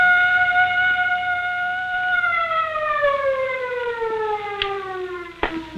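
A wailing siren in a 1950s–60s radio suspense drama. Steady, loud, harmonic tones slowly glide downward as it winds down, with a couple of sharp clicks near the end.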